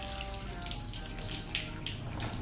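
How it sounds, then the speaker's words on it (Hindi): Cold water runs steadily from a drinking-water tap fed from underground, a continuous close splashing hiss with no talk over it. "फुल ठंडा पानी आ रहा है।"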